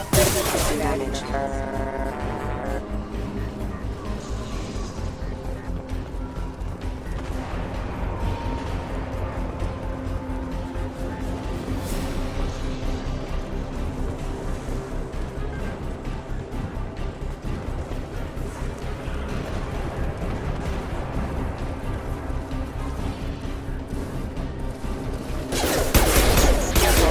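Sustained gunfire rattles through a firefight in the video game Mass Effect 2 Legendary Edition, loud and continuous for nearly half a minute, with voices speaking over it and a heavy burst near the end.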